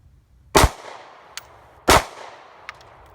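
Two sharp, loud 9mm shots from an M&P Shield pistol fired at soda cans and steel targets outdoors, each followed by a faint, delayed clang or ping of a distant hit.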